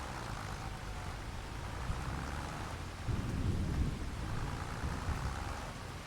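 Steady rain hisses on surfaces while a low rumble of thunder swells midway, all without voices, from the Farming Simulator 25 video game.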